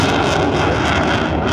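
A Eurofighter Typhoon jet at the Blackpool airshow roars continuously overhead, a loud, dense, steady engine rush with wind buffeting the microphone.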